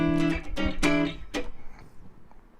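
Electric guitar played through the neck pickup with the tone turned up, a few bright strummed chords in a funky rhythm, each ringing out and decaying into a fading tail, heard alone.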